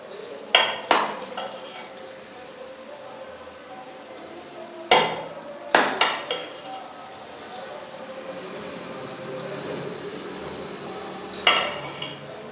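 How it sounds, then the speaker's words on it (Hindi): Shalgam rogan gosht being served onto a plate, several sharp clinks and knocks of a utensil against dishware at irregular intervals, close and moderately loud over a quiet background. "अब इसको हम प्लेट में ऐड करेंगे और देखेंगे ये कैसा बना है।"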